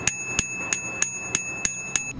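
Striker-type bell on the left handlebar grip of a Kugoo V1 electric bike, rung in eight evenly spaced bright metallic dings, close and clear with no talk.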